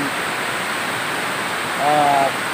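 Loud, steady rushing water fills the space, a powerful broadband roar with no letup, close and overwhelming, with a brief faint tonal whistle partway through.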